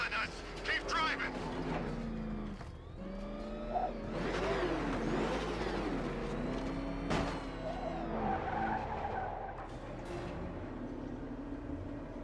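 The Batmobile races through Batman: Arkham Knight, its engine revving and tires skidding and squealing around turns over a steady whir, while game characters talk over it throughout.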